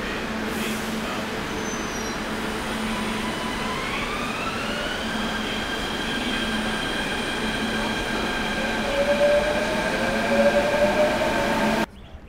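Train sounds at a railway station in Delhi: a steady rumble with long sustained tonal whines and a rising squeal, growing louder toward the end before cutting off abruptly.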